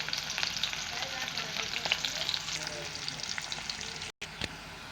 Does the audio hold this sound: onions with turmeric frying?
yes